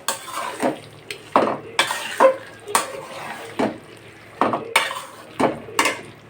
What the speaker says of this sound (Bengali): আমি আবার নাড়াচাড়া দিয়ে দেব।